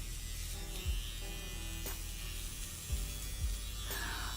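Electric trimmer shaving eyebrows gives a constant close-up buzzing hum, with a few soft brushing scrapes and small clicks as it moves over the brows; no one speaks.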